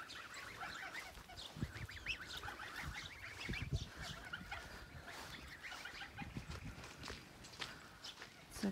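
Geese honk and cackle repeatedly at a village farmyard, mixed with footsteps and other fowl noises, moderately close under occasional talking.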